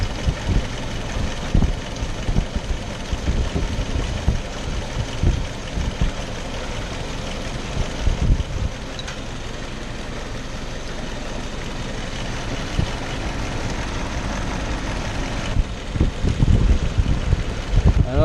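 Car engine idling steadily after its distributor timing has been adjusted without a timing light, a continuous low rumble close by with a few louder bumps near the start and end; no one speaks.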